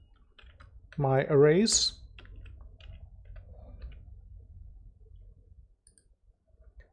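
Soft keyboard typing and mouse clicks tap away at a computer while a file is named, with light irregular ticks running through. Someone speaks briefly near the start.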